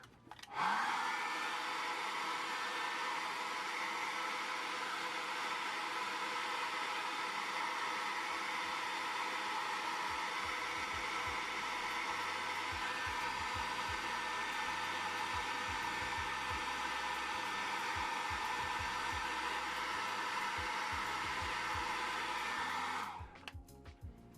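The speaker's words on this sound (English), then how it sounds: "I'm just going to blow dry that again real quick." A hair dryer blows steadily on acrylic paint, a loud constant whoosh close by that runs for over twenty seconds before clicking off, with faint low rumbles beneath.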